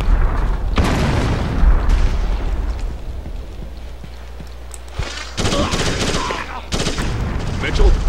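Grenade blast and rapid gunfire in Ghost Recon Advanced Warfighter on PS2, loud booms and dense bursts of automatic fire rattling over a steady low rumble, with a second heavy volley near the end.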